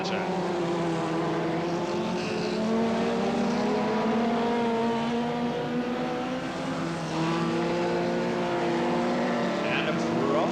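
Stock cars racing around a track in a continuous, dense engine roar that swells as cars pass, with layered revving tones from several vehicles at mid distance.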